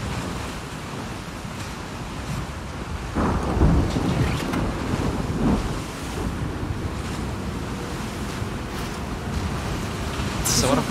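A thunderstorm with rain in the video game The Last of Us Part II: a steady wash of wind and rain, with deep thunder rumbles swelling through the middle and a sharp crack near the end, as someone talks over it.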